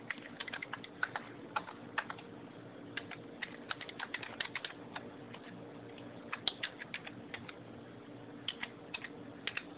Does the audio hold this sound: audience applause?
no